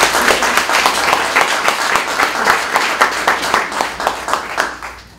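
Steady applause from an audience at an endowment event, a dense wash of many hands clapping at once that holds strong throughout and eases slightly at the end.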